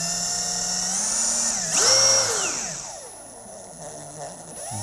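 The chuck of a Metabo HPT DV18DEX 18V MultiVolt hammer drill spins up with a high motor whine, briefly surges in pitch, then winds down as the chuck coasts to a stop, close and alone.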